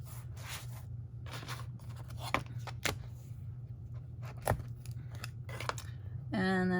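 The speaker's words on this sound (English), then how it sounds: "So I'm going to put a piece of tape right across here." Tape being pulled and pressed across a paper mini album, heard as close, scratchy rips and crinkles with a few sharp clicks over a steady low hum, ending in a louder sustained tearing stretch.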